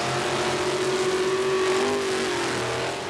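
A modified Jeep with a carburetted Chevrolet 355 V8 roars steadily through a mud racing run, the engine held at a loud, rough, sustained drone from start to finish with no voices.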